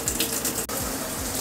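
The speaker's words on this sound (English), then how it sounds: "I think I'm just gonna go ahead and take a shower." Water runs steadily from a shower in a home bathroom, a continuous close hiss of flowing water with no talking.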